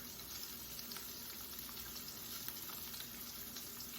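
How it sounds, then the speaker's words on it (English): Cajun cream sauce with half and half bubbles and simmers in a pan for blackened catfish, a steady soft hiss and fine crackle, quiet and even throughout with no talking. "now we're going to let it simmer"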